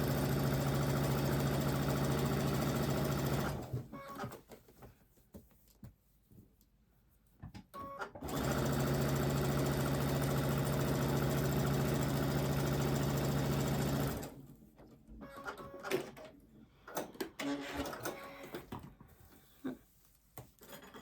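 Sewing machine stitching a quarter-inch seam on a quilt border piece: two sustained bursts of fast, even mechanical whirring, separated and followed by quieter handling clatter and pauses.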